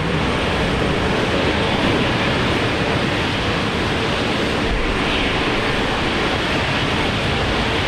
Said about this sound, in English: Shane is flying with Virgin to Bali On the Maxi